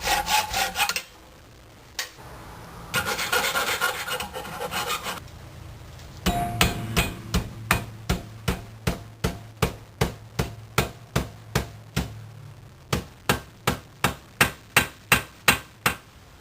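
A steel rod is cut by hand, first a few rasping saw strokes with pauses, then a long run of sharp, evenly spaced rhythmic strokes growing louder and closer toward the end.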